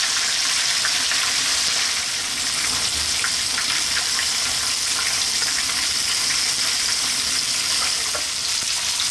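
Whole tilapia, cut open and seasoned with salt and pepper, frying in hot oil until crispy, giving a loud, steady, dense sizzle with crackling pops throughout.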